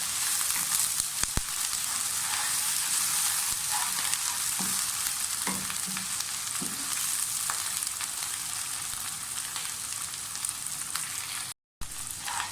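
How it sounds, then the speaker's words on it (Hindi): Garlic and ginger paste fries in hot oil for bhuna mutton, giving a steady, close, loud sizzle that runs throughout, with a few faint utensil taps and one brief dropout near the end. "लहसुन अच्छी तरह से भून गए"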